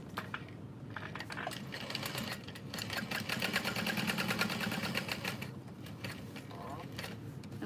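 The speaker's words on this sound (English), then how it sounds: "So I'm just gonna sew along the outer edge." A sewing machine stitches steadily along the outer edge of a piece, its rapid mechanical whirr holding close and loud for several seconds, with voices intermittently audible around it.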